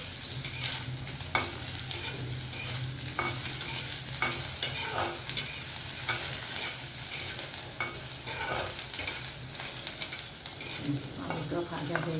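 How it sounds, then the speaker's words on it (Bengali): Potatoes, boiled first, fry in a pan while a spoon stirs and scrapes them, for a banana-flower curry with lentil dumplings. A steady close sizzle runs throughout, broken by repeated scraping strokes, with no talking. "আলুটা ভাজা হয়ে গেল, এরকম লাল লাল হয়ে এসছে।"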